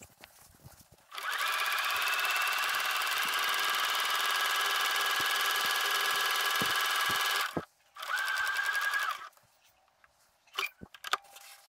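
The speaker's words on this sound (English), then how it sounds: "Align the folded edge of your hem with the guide on the blind stitch foot and carefully stitch along the entire length." A sewing machine with a blind stitch foot hemming a cushion backing, running as a steady high motor whir for about six seconds, pausing, then a second shorter burst, followed by a few faint clicks.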